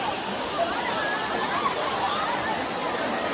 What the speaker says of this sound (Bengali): এইটা ওয়াটারফল বন্ধুরা, এখান দিয়ে ঝর্ণার জল পড়ছে